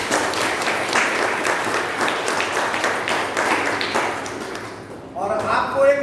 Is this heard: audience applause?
yes